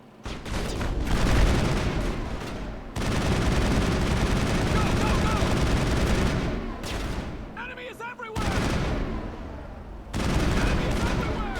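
Mass Effect combat erupts into loud, dense gunfire, sustained automatic bursts and heavy blasts with brief gaps, against mercenaries, with voices calling out between volleys.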